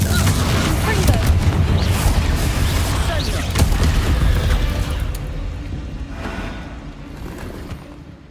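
The Confringo explosive spell is cast in a video game, setting off loud, rumbling blasts and crackling debris that roll on for several seconds before slowly fading.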